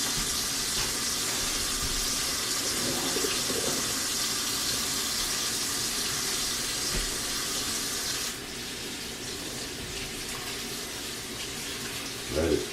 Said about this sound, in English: So I'm going to run some water over one, cold water.